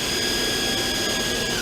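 The live tool on a 2004 Nakamura Tome WTS150 lathe spins at 3000 RPM, giving a loud, steady, high-pitched whine over a dense mechanical hiss with no pauses.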